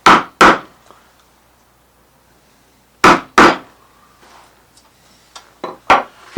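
A wood carving gouge cuts into a drawer front with sharp, loud knocks and snaps in pairs, followed by softer scraping ticks and small taps, close and without talk.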